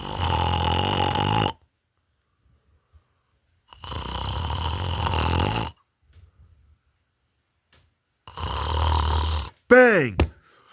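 Three long, loud snores separated by silent pauses, then a brief squeaky rising-and-falling sound at the end, heard at night in a lighthouse on Block Island.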